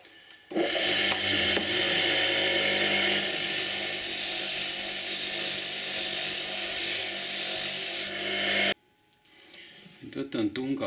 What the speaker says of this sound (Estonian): Nii, nüüd lihvime selle põhja ära.